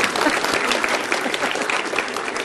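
An audience bursts into brief, dense applause, a steady wash of many hands clapping at once without any talk over it.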